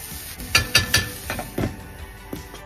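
Methi greens fry in a pan while being stirred: several sharp metallic scrapes and clinks of a utensil against the pan come in an irregular burst over a faint sizzle.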